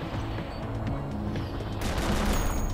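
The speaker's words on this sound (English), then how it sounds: "Assume it's like some sort of frag grenade launcher." Rapid bursts of gunfire and explosive blasts from a frag grenade launcher in the video game Cortex Command, loud and continuous over a steady music-like background.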